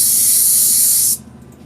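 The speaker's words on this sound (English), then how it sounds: "Just test out my spray on here." White spray paint hisses from an aerosol can in one loud, continuous burst, cutting off abruptly near the end and leaving a quiet room.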